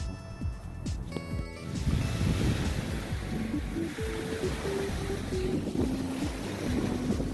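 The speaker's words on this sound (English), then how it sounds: "Waves are crashing. It's really pretty." Waves crashing on a Pacific Northwest shore, a continuous roar of surf and wind buffeting the microphone, opening with some brief knocks and handling sounds before the water noise fills in.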